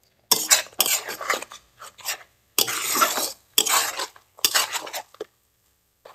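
Spices and garlic paste are stirred and fried in a pan, with bursts of scraping and clattering from a utensil against the metal coming in uneven strokes, separated by short pauses.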